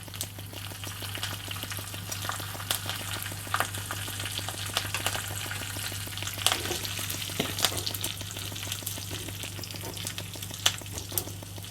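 Cumin seeds, white sesame seeds and curry leaves sizzle in hot oil for a tempering, a steady close crackling hiss with scattered sharp pops throughout, no voices.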